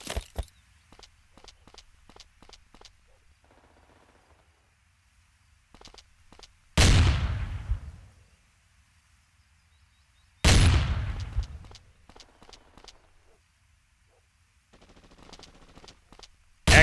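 Two heavy grenade blasts at bunker windows in the video game El Matador, each a sharp booming burst with a rumbling decay, separated by a few seconds of quiet clicks and light footsteps.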